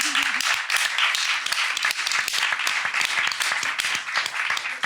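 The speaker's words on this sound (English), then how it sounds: "can we give Karen Gross and She Rocked It a huge round of applause?" Close, lively applause for a panel at a career and self-care talk, a handful of people clapping with distinct sharp claps in an uneven rhythm, with a brief voice at the start.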